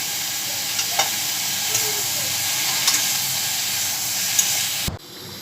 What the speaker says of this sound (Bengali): এখন হলুদটা দিয়ে একটু মাখানো হচ্ছে।